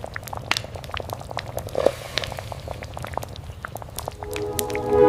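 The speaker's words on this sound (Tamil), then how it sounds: "கத்திரிக்காயை புளித்தண்ணியில உப்பு சேர்த்து வேக வைங்க." Brinjal simmering in tamarind water with salt in a pot, a continuous low bubbling with scattered pops and small bursts, close and steady, swelling a little louder toward the end.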